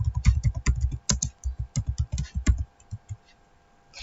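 Rapid keystrokes clatter on a nearby computer keyboard while a command is typed, a dense burst of clicks that thins into a few scattered taps and then falls silent.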